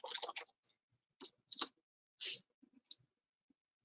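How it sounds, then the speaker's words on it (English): Password being typed on a computer keyboard, heard as scattered short key clicks in small bursts with gaps between them, close and fairly quiet. "I can go ahead and type in a password."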